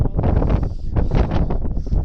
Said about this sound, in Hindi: वैसा बर्फीली हवा चल रही है